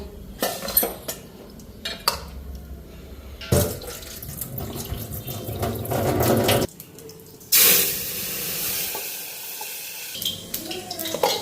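Tap water splashes into a sink as soaked split peas are washed in a home kitchen, mixed with clinking dishes and utensils. The splashing comes in bursts with gaps between them, close and moderately loud.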